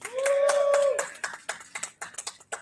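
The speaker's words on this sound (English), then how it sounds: "Can we give a round of applause to them?" A short burst of applause from a small audience, starting with a sustained tone, then thinning into scattered, uneven claps that fade out.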